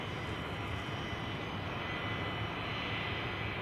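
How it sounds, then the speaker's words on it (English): An Airbus A320 takes off from runway 28 at Zurich Airport on a winter day, its jet engines making a continuous broad roar at a steady, moderate level. "A320 just departed on 28"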